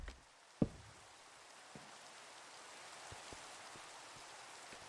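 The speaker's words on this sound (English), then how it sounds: "That is like the third or fourth time today it's been raining." Rain falling steadily in Minecraft at night, a soft even hiss throughout with a few brief ticks and one sharp knock near the start.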